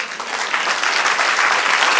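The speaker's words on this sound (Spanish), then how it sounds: "Denle un aplauso al Señor." A church congregation breaks into dense, steady applause that fills the space evenly, with no voices rising above it.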